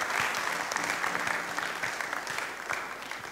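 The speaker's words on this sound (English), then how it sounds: "can we please give her another round of applause?" An audience at a conference-style event claps, a short burst of continuous, fairly even applause heard from within the room without any speech.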